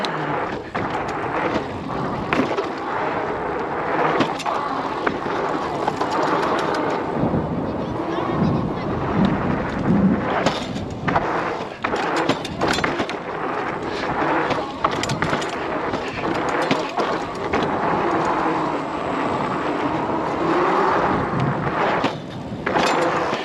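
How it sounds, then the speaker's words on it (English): Cyrusher Range e-bike deliberately casing jumps: heavy wind buffeting and rolling tire noise, broken by repeated thuds and rattles from hard suspension landings, loud and close throughout. "I'm just gonna intentionally case some jumps so that way you can see what the suspension's like"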